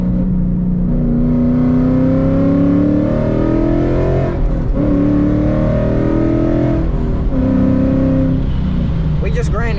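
A 2015 Mustang fitted with an MGW race-spec shifter drives loud and close inside the cabin, the engine note rising through revs and then dropping and climbing again as it downshifts, with talking underneath.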